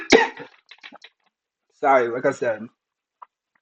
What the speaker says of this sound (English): I'm sorry for the coughing fit.